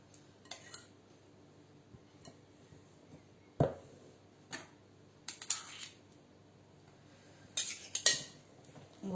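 A double-ended spatula scraping gougère dough from spoons and a bowl, a few sharp, separated scrapes and clinks at close range over quiet background.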